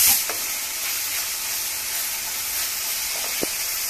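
Chopped tomato tipped into onions frying in a pan for a potato and pea gravy, giving a steady close sizzle and hiss with a couple of faint stirring knocks, no voices.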